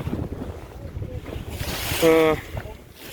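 Wind and waves wash around a sailing boat at sea near Ravda, Bulgaria, in a light northeast wind of 3-4 m/s, with a short creaking tonal squeak from the rigging partway through.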